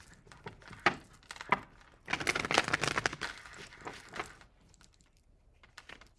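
Tarot cards shuffled by hand in a quiet room, a series of soft papery riffling clicks with one longer dense burst in the middle.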